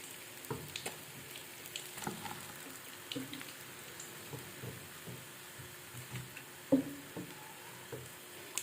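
Boneless fish frying in hot oil for a Lahori-style fish fry, a soft, steady sizzle with faint pops and crackles scattered throughout, one brief louder knock near the end.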